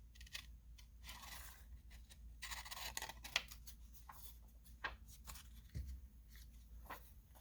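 Scissors snip paper stamp pieces for a steampunk junk journal, a series of quiet, irregular cuts and small paper rustles close by, with no talking.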